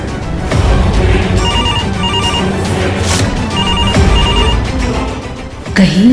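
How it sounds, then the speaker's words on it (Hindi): A phone rings in repeated short electronic trills, loud and close, over background clatter and noise, with a thump near the end. "कहीं ये पायल का फोन तो नहीं?"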